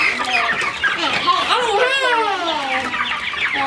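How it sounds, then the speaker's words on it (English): Young meat chickens chirp and peep in a dense, constant chorus while being loaded into a floorless chicken tractor on pasture, with many overlapping calls close by and no voices. "we're loading up all the chicks to go on the chicken tractor without a floor"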